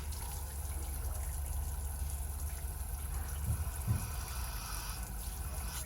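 Water running from an RV's outside shower fixture as it is flushed one side at a time, a steady close hiss and trickle with no voices.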